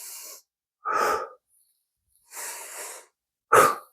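Deep breaths taken during a side stretch on a couch, four distinct close inhales and exhales separated by silences, with the last exhale the loudest and slightly wheezy.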